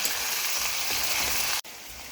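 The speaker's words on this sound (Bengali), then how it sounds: "এটাকে খুব ভালো মতন আমি একটু ভাজা ভাজা করে নেব।" Chopped onion and green chili fry in a pan with nigella seeds, giving a dense, close, continuous sizzle that cuts off sharply for an instant before resuming.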